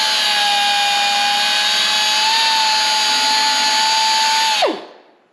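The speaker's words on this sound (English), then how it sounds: "what we're going to use, our Speed Air belt sander. We're just going to hop in here and hit on this a little bit." A Speed Air belt sander runs against a car hood with a steady, loud, high whine for several seconds, then spins down quickly and falls silent near the end.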